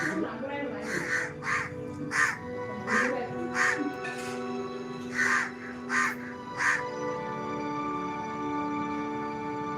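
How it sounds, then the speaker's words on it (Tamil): Crows caw repeatedly in short bursts, about a dozen harsh calls spread across the stretch, fairly close, with a voice and household noise underneath during a home livestream. "நம்மள காக்காவே பார்க்க"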